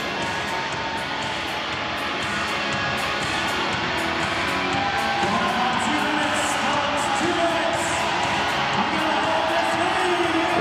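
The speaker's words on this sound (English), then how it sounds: "The Topeka crowd trying to spur on this Tropics defense to see if they can make something big happen here." Topeka home crowd at a Tropics football game cheering and roaring steadily to lift its defense late in the game, a broad continuous wash of noise with scattered whoops, loud and sustained throughout.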